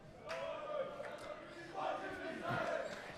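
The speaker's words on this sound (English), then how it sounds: "The crowd is hollering and hooting at the spectacle of a game we like to call volleyball." Boys volleyball match crowd at San Clemente versus San Juan Hills, hollering and hooting in sustained bursts of mixed voices, with louder swells of cheering near the end.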